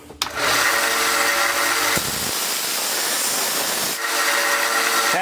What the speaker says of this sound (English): I have the little 1x30 sanding belt sander here